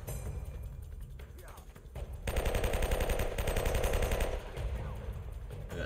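Rapid automatic gunfire rattles in Uncharted: Drake's Fortune, a sustained burst of fairly loud shots lasting about two seconds, with someone talking over the game sounds.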